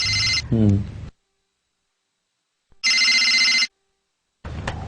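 A telephone rings in repeated bursts separated by silent gaps, loud and close, with a brief voice sound near the start.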